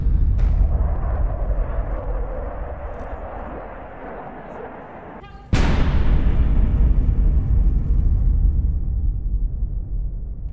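An unguided free-fall dumb bomb detonates with a sudden loud blast that cuts through a steady roar, followed by a long, heavy rumbling aftermath.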